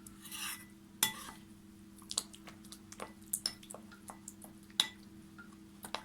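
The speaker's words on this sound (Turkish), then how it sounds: "Un tabakları kalmayana kadar güzelce karıştırıyoruz." Spoon scraping and clinking in a bowl of flour, water and vinegar batter for a börek, soft wet stirring punctuated by several sharp taps against the rim over a steady background hum.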